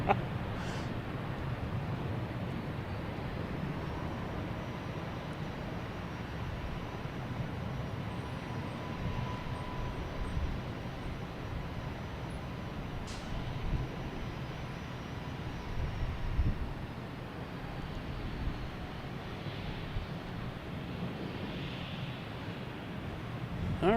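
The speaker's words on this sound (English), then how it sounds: "got our first Spirit Airlines coming in. Coming in from Orlando, an A321" A Spirit Airlines Airbus A321 arriving from Orlando lands on runway 4 right at Boston Logan Airport, a sustained broadband jet roar heard from a distance, steady and even throughout with no talk over it.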